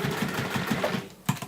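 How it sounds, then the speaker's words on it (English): Sewing machine stitching a seam through cork fabric, a steady rapid chatter of needle strokes running close and clear, then a brief pause before a sharp final knock. "pull it to one side and then you're going to sew across"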